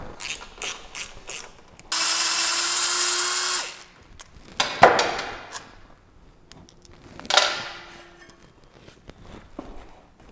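A ratchet tool clicks out brake caliper bolts on a Harley-Davidson Softail Breakout: quick ratcheting bursts, a steady whirring run of about two seconds, then scattered clicks and metallic clanks close by.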